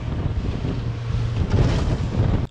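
A fishing boat pounding through rough Florida ocean waves, a steady roar of wind buffeting and hull noise with heavier thumps of water, loud and continuous, no talking.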